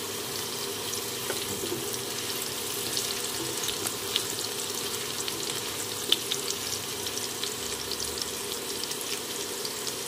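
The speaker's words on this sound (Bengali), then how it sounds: "ঢাকা খুলে আলুগুলো একবার নাড়িয়ে নিতে হবে।" Potatoes being stirred in a covered pan over medium heat, with a steady low sizzle and faint watery bubbling throughout and a few light scrapes; there is no talking.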